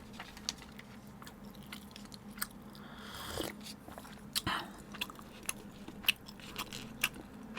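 Eel sushi being eaten, with close, soft chewing and squishy mouth sounds broken by sharp bite clicks at irregular intervals, quiet and without talk.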